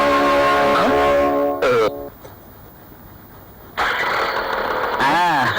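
A vehicle engine starts, with a short cranking burst, a quiet pause, then the engine catches and runs at a loud idle, with people talking over it.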